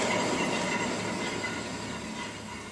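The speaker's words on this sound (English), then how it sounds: "that's the sound of a bad wheel bearing." A Geo Tracker front wheel with a bad bearing is spun by hand, producing a steady grinding, rumbling drone that fades slightly over a few seconds, with no voices.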